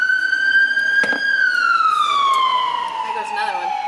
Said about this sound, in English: That was ambulance